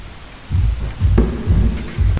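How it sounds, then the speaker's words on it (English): Rain-laden storm ambience in the ancient Greek strategy game Hegemony Gold, a steady hiss broken by three or four low, rumbling thunder swells, with one sharper crack near the middle. "Winter stormy season has begun."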